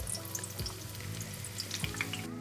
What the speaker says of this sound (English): Carefully place your aubergines into the oil and fry for around 3 minutes.